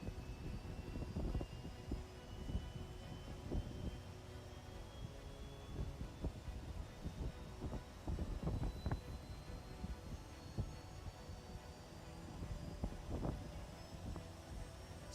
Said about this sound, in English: We are gonna go ahead and turn on the APU